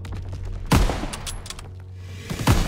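Two heavy single rifle shots from a WWII-era precision rifle in Call of Duty WWII, each a sharp loud crack with a booming tail, spaced about two seconds apart with quiet between.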